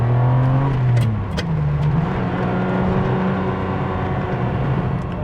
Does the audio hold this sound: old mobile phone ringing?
no